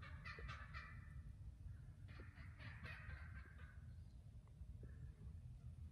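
Several young male wild turkeys gobble in bursts a short distance off, their rattling calls overlapping against a low steady rumble of outdoor background noise.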